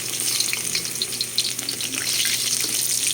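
Garlic and ginger sizzling in a hot pan, a steady close crackling hiss that stays loud and constant throughout.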